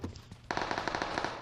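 Gunfire rings out in PUBG Mobile: a couple of isolated shots, then a rapid burst of sharp cracks in quick rhythm, close and loud, with no talking.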